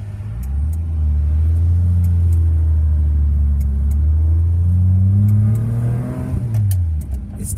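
A Holden HD car engine runs steadily and loud up close, its low tone rising and falling as it revs, with a brief dip near the end.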